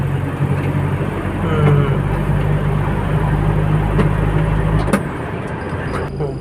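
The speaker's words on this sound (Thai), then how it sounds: "เครื่องเดินเบาไม่มีสะดุดเลยนะครับ" A Nissan Big M pickup truck engine idles steadily with a low, even rumble, close by, with a brief knock near the end and faint background noise.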